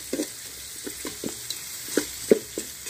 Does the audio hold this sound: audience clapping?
no